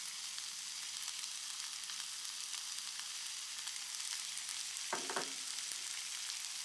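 Onion frying in a pan for homemade ratatouille, a continuous faint hiss and sizzle with a short scraping stir near the end, no voices.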